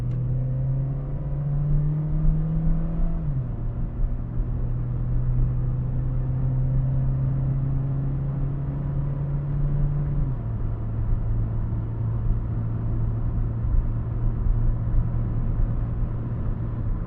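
Inside a 2013 Honda Fit with 104,000 miles while driving, a steady engine drone holds its pitch and drops in steps as gears change, close and moderately loud over road rumble, with no talking.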